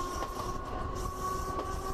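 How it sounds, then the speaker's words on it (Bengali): Train running on rails, heard from inside as a steady low rumble with a faint clatter of wheels and a thin humming tone. It sounds moderate and continuous, with no talk. "10টা 20-তে ট্রেন চলতে শুরু করলো।"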